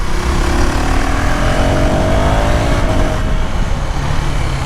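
A KTM Duke 390R motorcycle engine drones steadily and loud, a rising whine of revs climbing through the middle before easing, with constant road and wind rush throughout and no speech.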